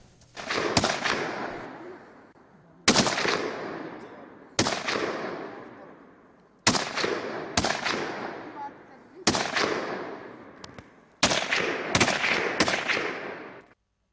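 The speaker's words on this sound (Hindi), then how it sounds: "AK-47 बंदूक से फायरिंग की गई।" An AK-47 rifle fires at a police firing range in India, with loud, sharp single shots and short clusters of rounds spread across the span, each crack followed by a long echoing decay outdoors.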